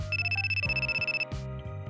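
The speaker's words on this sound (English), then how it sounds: "my phone is ringing" A smartphone ringtone plays a bright repeating electronic melody, loud and close, with steady pulsed tones that shift pitch partway through before cutting off.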